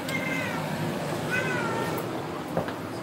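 A cat meows twice, short and fairly close, over steady background noise indoors, with a faint click near the end.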